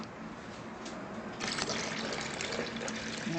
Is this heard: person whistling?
no